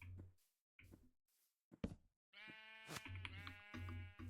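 Sheep bleating in the video game Minecraft, several separate bleats with short gaps between them, one of them longer and more wavering, heard fairly close over quiet game background.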